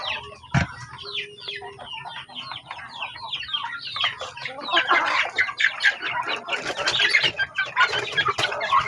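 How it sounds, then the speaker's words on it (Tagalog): A flock of turkeys at a farm pen near chicks calls continuously, a busy chorus of chirps, clucks and gobbling-like squawks that grows louder and denser, with a sharp knock near the start. "Oh, yan po mga kapanok yung ating pabo."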